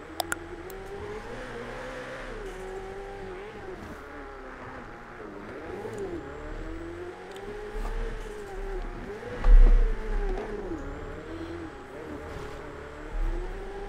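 A car driving and revving in a GTA role-play game, steady engine drone with rising and falling pitch and occasional louder surges, while people chat over it.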